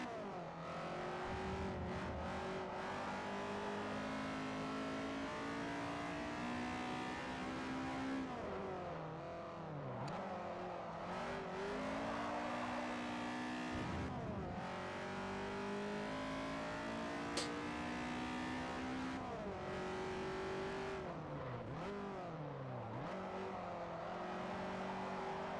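Lamborghini race car engine in Forza Motorsport 4 roaring continuously, pitch climbing through gears with sharp drops at each shift and deceleration, loud and sustained without talk.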